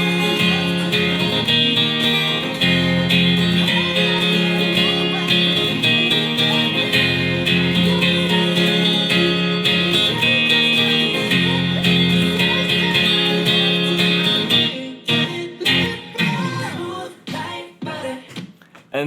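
Acoustic guitar strumming the chorus of a song, a steady full-chord rhythm played loud and close, then broken into separate strums and choppy muted strokes near the end.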